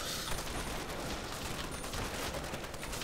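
A Browning machine gun fires in a Call of Duty zombies game, a loud, unbroken burst of rapid gunfire with heavy recoil that runs the whole stretch without a pause.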